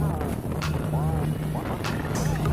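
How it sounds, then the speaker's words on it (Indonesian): A passenger speedboat with twin Yamaha 250 outboard engines runs at about 80 km/h, a steady loud engine drone and water rush beneath someone speaking. "Kecepatan speedboat Raja Wali ini bermesin Yamaha"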